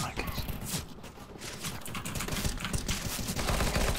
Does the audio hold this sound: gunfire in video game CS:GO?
yes